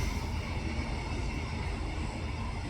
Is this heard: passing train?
yes